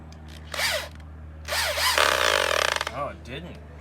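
A power drill whirs in short bursts as it bores into wood while installing solar step lights, revving up and down over a steady low hum, close and fairly loud.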